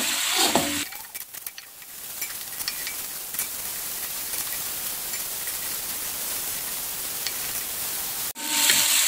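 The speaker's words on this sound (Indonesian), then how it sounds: "ini kita tumis hingga mengeluarkan aroma yang wangi" Galangal, lemongrass, knotted turmeric leaves, lime leaves and bay leaves sauté in a pan, giving a steady broadband sizzle that runs almost unbroken for the clip after a few stirring clatters at the start, with no talking.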